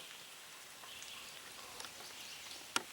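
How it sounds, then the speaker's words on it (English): Light rain begins to sprinkle onto a canopy of trees outdoors, a faint, steady patter of scattered drops with one sharper close drip near the end. "it's starting to sprinkle a little bit."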